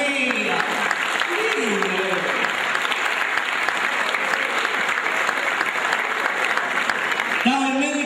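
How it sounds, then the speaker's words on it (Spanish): Sustained audience applause at a comedy show, a thick, even roar of clapping running the whole length, with a voice briefly heard at the start and again at the end. "Vamos, la aplauso a Rea"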